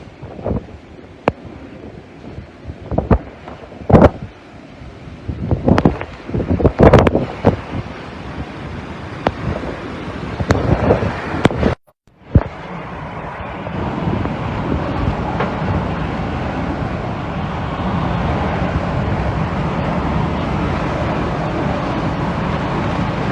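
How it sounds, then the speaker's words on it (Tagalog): Strong wind from Typhoon Ulysses roars and buffets the microphone in gusts, with bangs and rattles early on, then settles into a steady loud rushing roar. "ang lakas po ng hangin, sobra"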